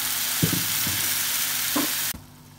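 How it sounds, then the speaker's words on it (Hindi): Tomato puree from four blended tomatoes goes into a pan of frying curry leaves for Egyptian koshari, giving a loud, dense sizzle with a few stirring scrapes before the sizzle cuts off abruptly near the end. "1 मिनट तक फ्राई करने के बाद इसके अंदर हम ऐड करेंगे टोमेटो प्यूरी"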